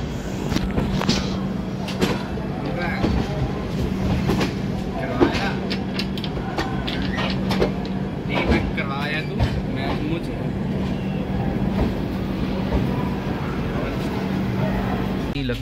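The Ganga Sutlej Express pulls into Lucknow station with a steady rumble and low hum, scattered clanks and knocks over station ambience, and people talking in the background.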